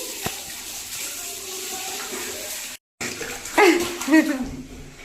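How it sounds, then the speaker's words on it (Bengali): Water is poured over someone bathing, splashing in short bursts with a brief gap, while a voice talks close by. "মুখে জল দাও, চোখে জল দাও, মাথায় জল দাও"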